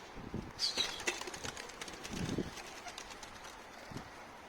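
Pigeon wings flap in a few quick bursts near a coop, with soft cooing and outdoor background noise.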